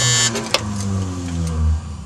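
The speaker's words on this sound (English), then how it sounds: "at least the starter's turning" A 1978 Mercury Grand Marquis starter motor spinning on a 20-degree cold morning, its drive failing to engage, giving a steady whirring whine with a faint click, fairly close and without voices.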